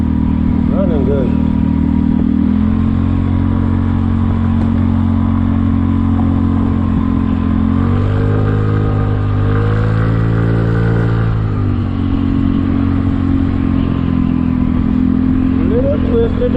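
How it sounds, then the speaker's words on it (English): A Kymco People 250 scooter engine idles steadily on a cold 40-degree night, then rises in pitch as the throttle is twisted and settles back to idle, loud and close throughout. "A little twist of the throttle."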